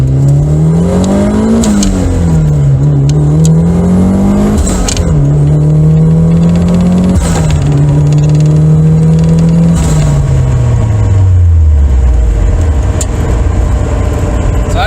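A boosted Toyota MR2 revs and accelerates up close, its loud engine drone rising and falling through several pulls before easing down, with faint hissing bursts between gears from the blow off valve.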